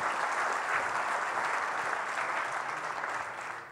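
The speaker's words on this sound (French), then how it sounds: "Applaudissons-le." Audience applause at an evening conference on time, a sustained, dense crowd clapping that fills the hall and fades slightly toward the end.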